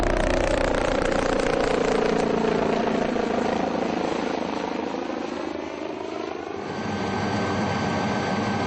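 A helicopter flies the route from Baltal to the Amarnath holy cave, its engine and rotor roar loud and continuous, swelling and easing slightly as it passes, with no talk over it.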